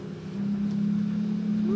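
Outboard motor of a Sylvan S3 Extreme pontoon boat running under steady throttle, a loud, close, continuous drone with a faint rising whine near the end, plus some wind buffeting.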